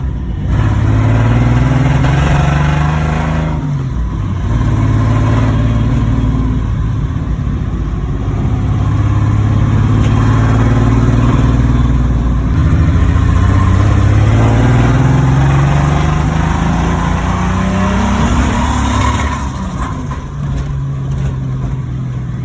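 A big-turbo drift car on its first drive gives a loud, close engine drone that rises and falls through repeated revs and gear changes over a steady rumble, with no talking.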